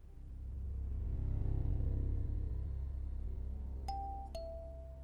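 A doorbell sounds a clear two-tone ding-dong, ringing out crisply near the end over a low, swelling rumble, with no voices.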